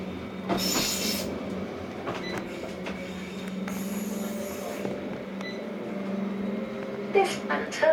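A Midland Metro tram runs on rails near Birmingham Snow Hill, a steady low rumble and hum with bursts of high hiss and squeal. The vehicle sounds close, and a recorded announcement voice speaks over it.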